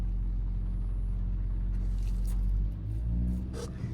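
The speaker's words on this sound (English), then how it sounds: "You can see the car starts to intermittently rev itself" A car with its engine management light on idles with a deep, steady rumble, its engine revving up by itself now and then in a brief surge before settling back.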